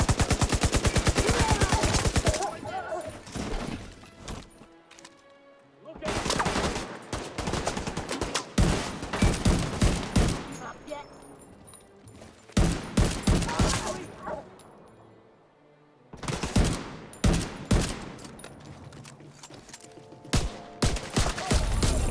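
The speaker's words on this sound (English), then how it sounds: "That minigun. Nice, finally I'm starting to use my special weapon here." Minigun fire in The Division 2 video game: long sustained bursts of rapid automatic fire, loud and close, broken by short pauses, with further gunfire and game sounds between the bursts.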